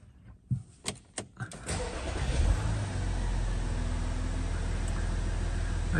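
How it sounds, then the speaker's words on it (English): A few clicks and a short starter crank, then the 3.0 TDI diesel engine of a 2010 Audi A6 catches and settles into a steady, loud, low idle close by. "we'll just start the vehicle up to show you there's no warning lights"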